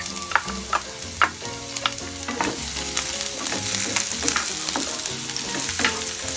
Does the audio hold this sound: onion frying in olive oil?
yes